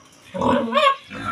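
A pig grunting at feeding time on a small farm, two or three close, throaty grunts in quick succession, moderately loud with no talking.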